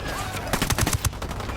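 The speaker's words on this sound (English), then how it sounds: "Got some rebels trading shots with the cartel." Rebels and cartel trade a short burst of rapid gunfire in Ghost Recon Wildlands, with four or five sharp close shots in quick succession.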